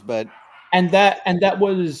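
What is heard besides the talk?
dogs barking in the background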